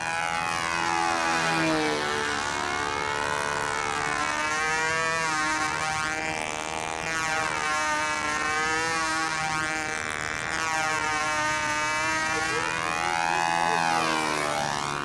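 A Hawker Hunter jet flies during flight trimming. It gives a continuous, loud, high turbine whine that repeatedly swells and fades in sweeping Doppler arcs as it passes back and forth.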